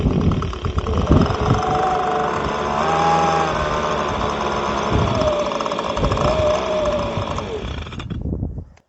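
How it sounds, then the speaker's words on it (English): An Echo ES 250 leaf blower's small two-stroke engine is recoil pull-started, then runs and idles steadily with a rough, buzzing drone for several seconds before cutting out. "pull our recoil handle here and see if we can get it to try to start."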